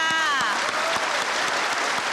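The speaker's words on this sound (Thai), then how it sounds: "ขอเสียงปรบมือให้น้องค่ะ" Applause from a school audience for a young performer from Udon Thani Municipal School 6, dense steady clapping throughout with a brief whistle-like tone sweeping down at the start.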